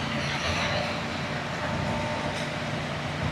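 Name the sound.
truck passing a motorcycle on a snowy road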